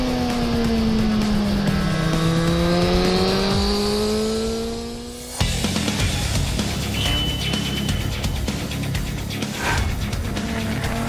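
A 2019 Suzuki GSX-R1000R sport motorcycle engine revs hard at launch with the throttle held wide open, a loud rising whine that climbs steadily, then cuts sharply into a rougher, buzzing roar.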